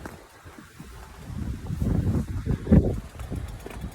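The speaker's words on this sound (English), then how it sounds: "It's looking a little bit windy" Gusty wind outdoors in Gran Canaria buffets and rumbles against the microphone, building and swelling in strength before easing slightly.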